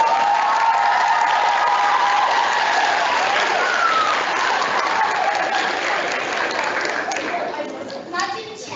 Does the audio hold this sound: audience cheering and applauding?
yes